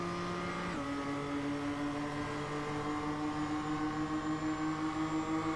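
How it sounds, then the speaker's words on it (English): A Toyota MR2 race car laps Lime Rock, its engine a steady sustained drone that drops pitch on a gear change, with a faint high tire squeal on corner entry. "You can hear the front tire screaming just a little bit on the entry of those turns."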